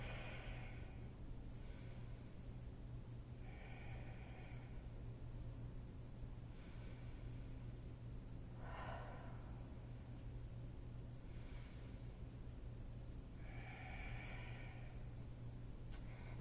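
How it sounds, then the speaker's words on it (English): Slow, deep breathing during a yoga pose, with several long inhales and exhales heard close and soft at a steady pace over a low background hum, with no talking. "Let's take at least 5 breaths here."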